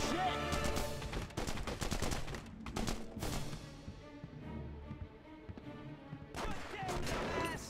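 Rapid gunfire in The Punisher video game at the Gnucci Estate, dense bursts of shots rattling steadily through most of the stretch, loud and close, easing briefly before picking up again, with shouting voices mixed in.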